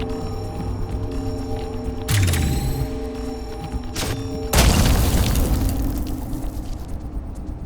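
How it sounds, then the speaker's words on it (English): Deep booming explosion on explosion day, a first heavy burst followed a couple of seconds later by a second, louder blast that rumbles and decays over a steady mechanical hum. "It's explosion day."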